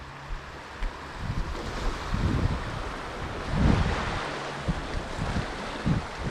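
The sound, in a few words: rushing water at a spillway before a hurricane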